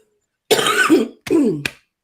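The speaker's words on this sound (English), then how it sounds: "I'm getting over this cold and I'm still coughing like crazy." Two harsh, throaty coughs from a person getting over a cold, close to the microphone, the second followed by a short sharp hack, with silence around them.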